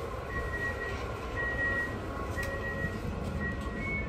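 Interior of a passenger train travelling from the Hungarian border town of Zahony toward Vienna, a steady rumbling ride noise with rhythmic track clatter and faint intermittent high whines, no talking.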